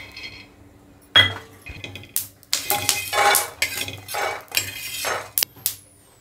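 Peanuts and green chilies being roasted in a pan, heard as a series of scraping metal clinks and spatula knocks, close and irregular, with no talking.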